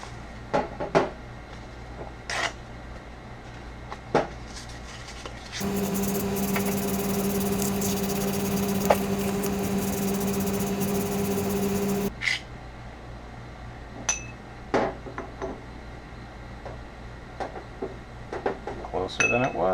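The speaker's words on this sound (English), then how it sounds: "400 grit sandpaper" Hand sanding of a VW distributor shaft with fine 400 grit sandpaper, a steady continuous scraping hiss lasting several seconds, close up, between quieter clinks of workshop handling.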